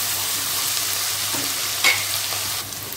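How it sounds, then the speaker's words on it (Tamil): Onions and cashews sautéing in a pan for a Muslim-style vegetable biryani, a steady close sizzle with brief stirring scrapes and a sharp clink near the middle, no voices. "வெங்காயத்தை நல்லா வதக்கிக்கலாம்"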